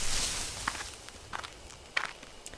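Footsteps rustling through bushes in the video game Death Mark, a few irregular crunching steps close by, sharp and distinct over a faint background.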